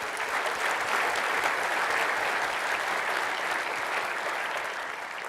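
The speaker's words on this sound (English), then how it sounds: "another quick round of thank you and applause for Dale" Large audience at a conference event gives a steady round of applause, dense and sustained for several seconds at moderate loudness, then tapering slightly toward the end.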